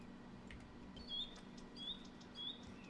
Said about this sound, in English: And these birds.